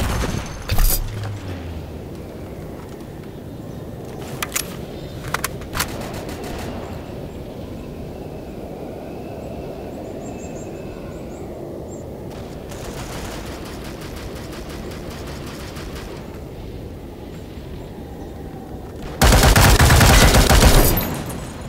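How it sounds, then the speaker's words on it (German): Gunfire from the World War Heroes mobile shooter during a capture-the-flag match: sharp bursts of shots at the start, a long stretch of muffled rumbling battle noise, then a loud dense volley near the end. "Deckungsfeuer! Granatenunterstützungsfeuer aktiviert!"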